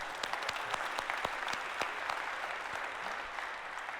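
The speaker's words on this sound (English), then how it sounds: "Maybe a round of applause" A small room audience applauding as someone is called up on stage, with brisk, dense clapping and distinct individual hand claps, sustained and even at a fairly quiet level.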